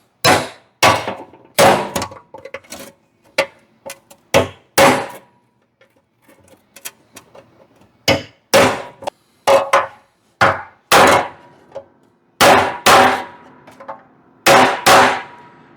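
Metal being hammered flat for a welding repair on a car before a road tour: a long series of sharp, loud clanging blows in irregular bursts, with brief quiet gaps between rounds of strikes.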